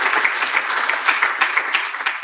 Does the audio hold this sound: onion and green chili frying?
no